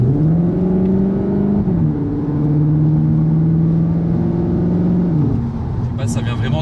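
A car engine drones loudly from inside the closed cabin on a racing circuit, holding a steady note, rising and dropping with the revs and easing off near the end.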